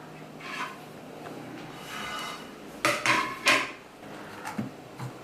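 Set fried milk custard is moved into a dish with a cluster of sharp clinks and knocks of utensil against cookware, a few louder hits midway and lighter taps after.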